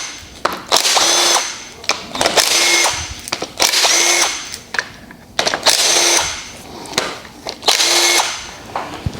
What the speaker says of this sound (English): we're going to take the impact and the 10 millimeter socket